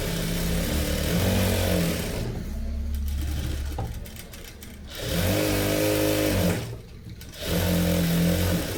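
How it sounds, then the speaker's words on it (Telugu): A sewing machine stitches a boat-neck princess blouse in a beginners' tailoring class, running in loud, steady whirring bursts separated by short pauses. "ఇలా మనం స్టిచ్చింగ్ చేసేసుకోవాలి"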